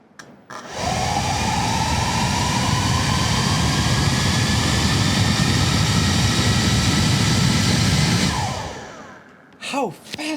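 An Atlas 40V brushless leaf blower roars flat out with its variable throttle disconnected, a loud steady airy whine that holds for about eight seconds, then winds down, ending in a brief sputter.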